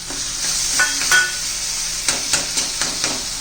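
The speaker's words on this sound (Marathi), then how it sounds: "आता आपण हे वांग घालून घेऊया मॅश केलेलं" Mashed eggplant stirred into spicy masala and peas frying in a pan, with a steady bright sizzle throughout and a few close spoon taps and scrapes against the pan near the end.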